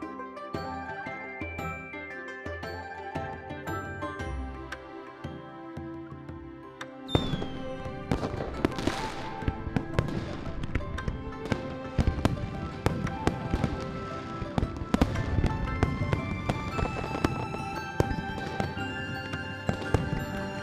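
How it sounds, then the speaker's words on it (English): Fireworks in the video game Love and Deepspace, a steady sparkle of bright crackles and pops layered over chiming, tinkling game music, growing denser after a soft opening of melodic tones. "Fireworks are beautiful."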